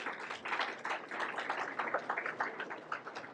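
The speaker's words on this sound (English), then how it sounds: "Let's give him a round of applause." A school board meeting audience breaks into applause, a steady crackle of many hands clapping at moderate volume that carries through the whole short stretch without talk.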